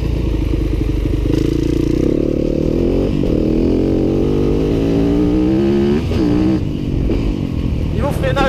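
A 2015 Yamaha WRF 250 dirt bike engine revs hard while riding, its pitch climbing and dropping with throttle, loud and close with some clatter; a voice talks throughout over the engine.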